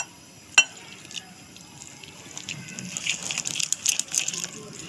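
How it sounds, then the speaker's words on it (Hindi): Water poured into a food-colour paste for crispy zinger potato fries and stirred in a bowl, giving soft splashy, gurgling mixing sounds with a sharp clink near the start, under a speaking voice. "साथ में इसमें हम ये पानी ऐड करते जाएंगे और इसको मिक्स करते जाएंगे"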